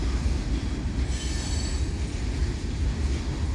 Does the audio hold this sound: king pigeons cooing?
no